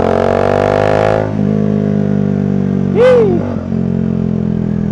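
Engine of a Bajaj Dominar 400 motorcycle on a ride, a steady loud drone close up that drops slightly in pitch partway through, with a brief sweeping whine over it near the end.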